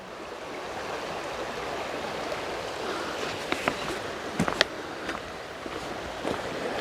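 The River Lyd runs through Lydford Gorge with a steady, moderately loud broadband rush of flowing water, joined by a few brief clicks and knocks near the end and no talk.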